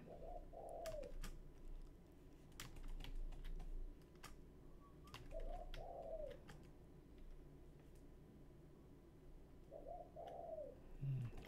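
Pigeon-like cooing heard in a Twitch stream of Elder Centipede, three separate coo phrases spaced several seconds apart over a background of keyboard typing and clicks.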